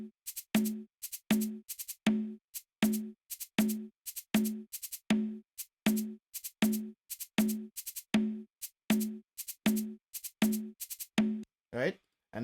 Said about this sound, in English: So with the conga and the shaker, it's gonna sound like this.